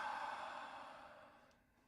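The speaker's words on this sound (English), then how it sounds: "Breathing in and breathing out." One slow, deep exhale breath, close and soft, fading out over about two seconds during a guided mindfulness breathing session, with no talking over it.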